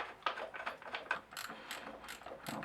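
Ratchet wrench tightening a bolt on the chain adjuster of a Honda Bros NT400 motorcycle: a close, steady run of quick mechanical clicks with no talking.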